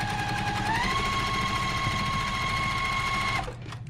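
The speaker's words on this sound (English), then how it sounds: "go ahead and sew a 1/4 inch seam on that" A sewing machine runs steadily at high speed, stitching a quarter-inch seam on fabric pieces placed right sides together, its hum rising slightly in pitch early on and then stopping abruptly near the end, close and loud.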